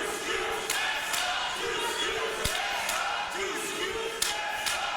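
A wrestling crowd at London Comic-Con roars steadily through Match 6 of the 2018 CANUSA Classic, Tessa Blanchard against KC Spinelli, with scattered sharp claps and shouts; a commentator talks over the dense, continuous noise.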